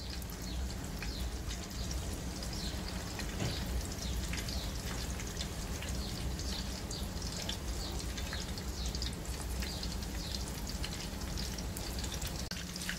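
Chapli kebabs fry in oil with a dense, steady crackling sizzle that carries on unbroken, close and moderately loud, with no talking.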